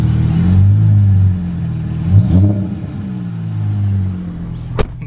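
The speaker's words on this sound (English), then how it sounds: "let me give you guys a quick rev cold start" A Dodge Hellcat's engine on a cold start settles into a deep, lumpy idle with a couple of brief revs, close and loud, ending with a short sharp click.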